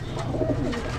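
Pigeons in a racing loft give low, rounded cooing calls over steady background noise, close and moderately loud throughout.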